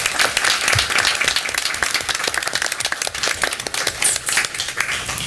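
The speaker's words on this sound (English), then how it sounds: "So please join me in a round of applause for Ms." Sustained applause from the audience at a Berkeley County School District board meeting, dense and even clapping from many people that stays loud for over five seconds.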